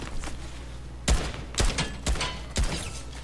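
Several sharp gunshot bursts from a competitive video game, four distinct loud blasts spaced about half a second apart over a low steady background hum, with no talking.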